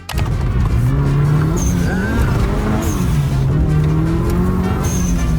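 A rare Mitsubishi EVO 6 accelerates hard on a test drive with rising and falling engine revs, tires squealing at moments, loud and close, no talking.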